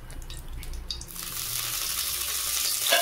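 Ghee spooned into hot oil for a monsoon-day chicken curry, giving a steady broadband sizzle that swells and holds after a second of quieter kitchen clatter, close and alone with no talking.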